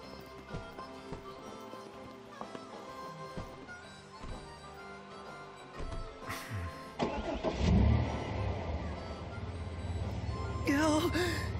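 A car engine in the video game Final Fantasy XV cranks and catches, then settles into a steady idle over background music, with a brief revving swell near the end.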